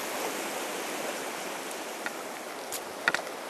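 The Middle Branch river flows with a steady, soft rushing babble of moving water, even and moderately close, with a couple of faint splashes or clicks near the end and no speech.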